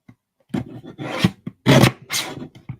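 Paper being trimmed for a stamped watercolour card, giving a series of close, rasping scrape strokes: several short bursts, then two louder sweeps, with no talking.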